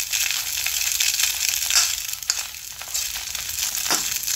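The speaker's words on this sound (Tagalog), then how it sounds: "naglalagitika na sinalapan" Small dulong (sinalapan) fish fry in oil in a pan, giving a steady close crackle and sizzle with occasional sharper pops and no talk.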